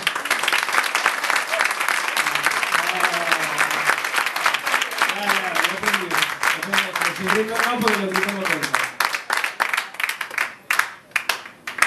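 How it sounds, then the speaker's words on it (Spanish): A crowd applauds a contestant at a talent contest held at a community event in Spain, steady dense clapping lasting throughout, with music or voices underneath and the applause breaking up into scattered claps near the end. "A ver aplausos para John Dreamer sin quitar"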